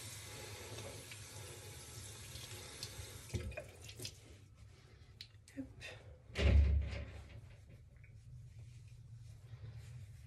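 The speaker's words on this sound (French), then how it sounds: "Donc je vais rincer à l'eau avec mes petites lingettes là." Tap water runs into a sink while face cleanser is rinsed off with small cloths, a steady close hiss that stops partway through, followed by a thud like a door or cabinet, a few light knocks and a faint voice.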